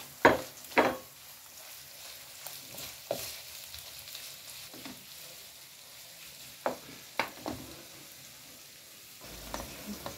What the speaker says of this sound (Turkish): Biberinin çok güzel kızarması gerekiyor.